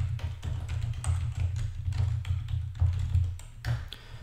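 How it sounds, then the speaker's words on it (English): Keys tapped on a computer keyboard while a password is entered, as a run of light, quick clicks over a steady low hum in a quiet room. "So let me go ahead and type in his password"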